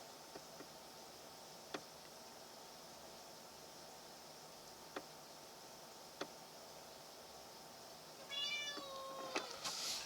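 A cat meows near the end of a quiet chess stream, giving a short run of rising, wavering cries after several faint ticks and taps over steady hiss.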